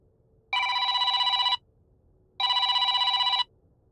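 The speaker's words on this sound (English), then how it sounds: "Did you hear a phone?" A telephone bell rings in two long, evenly spaced bursts of rapid trilling, loud and close against a quiet background, used as an effect in a scary Friday the 13th story.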